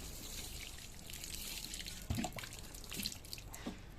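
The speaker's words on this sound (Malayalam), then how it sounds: "വെള്ളം അതിന് തൂളി കൊടുക്കുക" Water sprinkles over a newly planted elephant foot yam in a shallow bed of soil on a rooftop terrace, making a quiet, soft splashing trickle with a few faint drips and no talk.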